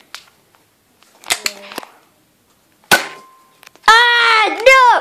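Nerf toy guns firing in a backyard Nerf war, a few sharp snapping pops spaced apart, close by, with brief voices and a short shout.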